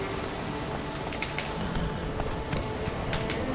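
A horse's hooves clip-clop in The Witcher 3: Wild Hunt, a steady run of faint, even hoofbeats under a dense wash of rain-like background noise, with no voices.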